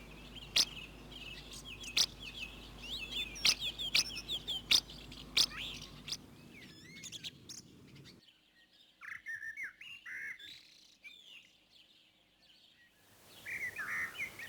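Spring birdsong outdoors, with sharp chirps and whistled calls repeating every second or so, then sparser, fainter calls after a quiet gap, with more singing returning at the end.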